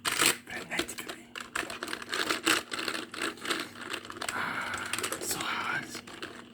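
Close, rapid typing on a computer keyboard, dense irregular clacks and taps running throughout with slight crinkly textures and quiet breathy whispering underneath.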